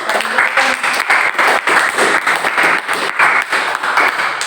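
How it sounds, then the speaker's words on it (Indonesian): A class applauding in a lesson, with dense continuous clapping from many students that pulses in steady waves for several seconds, loud and close, with no voices. "Kasih tepuk."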